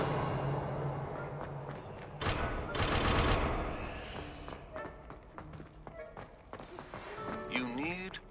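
A Revelio revealing spell cast in Hogwarts Legacy bursts out in a loud whooshing surge, amid scattered clicks, footsteps and a sweeping magical shimmer.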